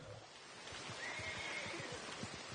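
A faint video game horse whinny rises and wavers over soft, rhythmic hoofbeats, heard quietly at a distance.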